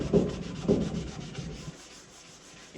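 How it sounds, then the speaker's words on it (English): A regular 3M sanding block rubbed over primer on a cabinet edge, two or three scratchy back-and-forth strokes close up, fading to quiet. "I got me a little sanding block, just a regular 3M sanding block. I'm gonna get on that edge like that."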